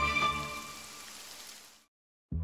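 Rain falls in a Geox shoe advertisement, a steady hiss of drops on a surface that fades out and then cuts off abruptly, with no voices heard.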